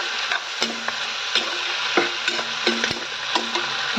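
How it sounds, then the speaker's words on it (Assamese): Cabbage, potato and onion fry in a pan, giving a steady close sizzle broken by regular scraping and knocking as a spatula stirs the vegetables against the metal. "এইফালে বহাই দিলোঁ বন্ধাকবি আলু তাৰপিছতে পিঁয়াজ ৰঙালাও এনেকৈ ভাজিছোঁ"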